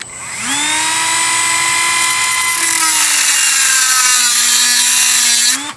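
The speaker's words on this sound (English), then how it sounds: "And we just come in with the Dremel again. This is going to have a lot of steel flying all over the place." A Dremel rotary tool cuts through steel on an RC airliner model build, a loud, continuous high-pitched whine that rises as it bites and holds steady for several seconds before stopping.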